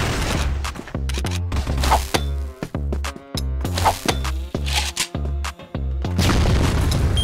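Bursts of explosions and gunfire in a competitive first-person shooter match, including a flashbang grenade, a dense sequence of sharp booms and cracks with brief gaps, loud and close with no voices.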